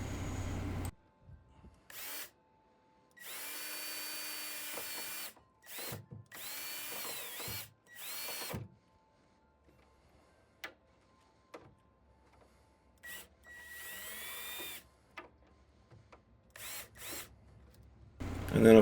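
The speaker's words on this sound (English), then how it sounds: "I'm using my drill, not my impact, and with the clutch setting, and the clutch will just start clicking when the screws are seated properly" A cordless drill set on clutch mode drives screws into wood in several separate bursts, each run of whirring motor ending in a ratchety clicking as the clutch slips, with quiet gaps and faint handling noise between them.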